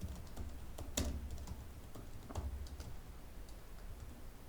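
Quiet keystrokes on a computer keyboard while JavaScript code is entered, irregular soft clicks with a couple of louder key presses, close and faint with no talking.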